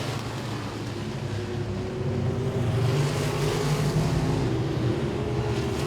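Modified race cars at Langley Speedway roar through turn four in a steady, dense wall of engine noise that holds without a break, loud and close, with no talk over it.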